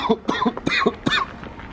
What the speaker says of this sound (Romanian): Te-ai văzut cum am tușit?